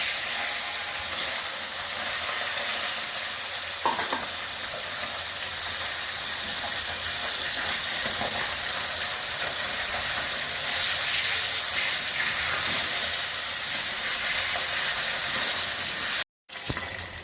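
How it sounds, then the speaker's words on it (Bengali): Bata fish frying in mustard oil gives a steady, even hiss that runs on alone for the whole stretch, with a few faint clinks and taps near the start. "প্রথমেই আমি বাটা মাছগুলো ভেজে নিচ্ছি।"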